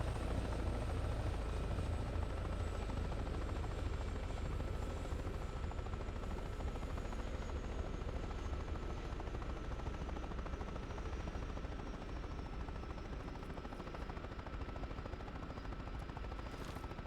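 A helicopter in the DayZ video game drones with a continuous, steady rotor roar and engine hum, close and constant throughout, with no voices over it.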